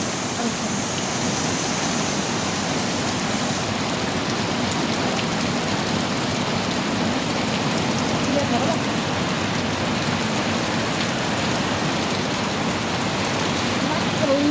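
Heavy rain pours down in a dense, steady roar that stays loud and unbroken throughout, with no pauses in the downpour.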